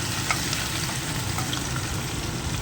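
Chili, Kashmiri chili and garlic paste frying in a pan for a red chicken kadai, a soft, even sizzle heard close and continuous without any talk.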